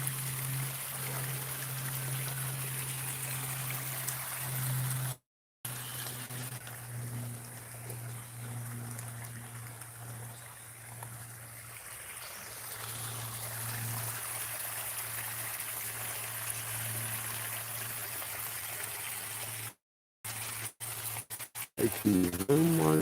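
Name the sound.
water flowing in a creek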